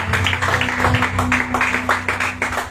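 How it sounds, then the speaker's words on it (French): A congregation applauding during a Sunday church service, a dense burst of clapping from many people, with a low hum and faint voices underneath. "Acclame pour la parole de Dieu."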